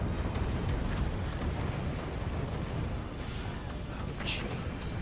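Artillery firing in the physics fort-battle game Forts, a loud, continuous barrage of booming, rumbling blasts with sharp crackling bursts layered on top, dense and unrelenting from start to finish.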